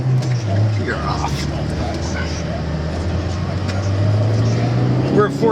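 A 2003 Mini Cooper's four-cylinder engine revs up steadily under acceleration on a road test drive, a continuous loud drone rising in pitch inside the cabin, with someone talking over it.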